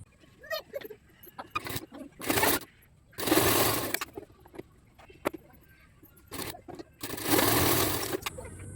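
A sewing machine sews a folded blouse hem in several short, loud bursts separated by pauses with quieter handling noises between runs.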